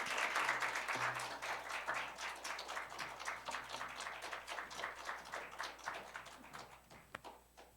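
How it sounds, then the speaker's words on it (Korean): A church congregation claps to welcome its senior pastor to the pulpit, starting as a full round of applause and thinning into scattered, distinct individual claps that fade toward the end. "우리 감사하는 마음으로 박수로 환영할까요?"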